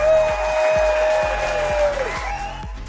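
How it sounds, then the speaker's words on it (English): Audience applause at a maker competition event, clapping under a loud sustained tonal hum and steady low pulses, the crowd sound modest and partly masked. "round of applause for everyone that helped make Madison possible"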